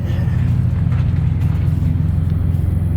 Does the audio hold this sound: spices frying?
no